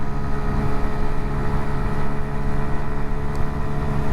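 An SRK 125 S motorcycle engine pulling up a steep hill, a steady low droning hum with wind rush that stays loud and unbroken, no voices.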